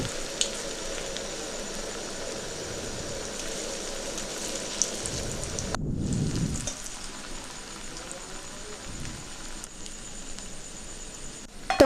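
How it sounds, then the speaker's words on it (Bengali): Vegetarian mock fish pieces fry in hot mustard oil, making a steady, close sizzle and crackle. The sizzle swells briefly as more pieces drop into the pan, with no talking. "তৈরি করা মাছগুলো একটা করে গরম তেলের মধ্যে দিয়ে দেবো,"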